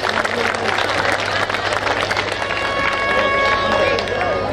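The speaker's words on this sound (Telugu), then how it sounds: "అందరు చప్పట్లు కొట్టాలి." Audience applause at a Sri Lakshmi Narasimha Swamy temple festival gathering, a dense continuous wash of clapping from a crowd under a steady hum, loud and sustained with babble mixed in.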